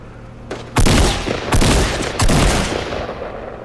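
Gunfire in a Fortnite 50v50 match: loud, close bursts of rapid automatic shots in three clustered volleys, the last trailing off into lingering echoes.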